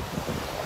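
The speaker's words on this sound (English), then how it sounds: "There's a lot of wind." Seaside wind buffets the microphone in a steady broadband rush, with faint surf from a beach at Cafe Hafa in Tangier mixed underneath.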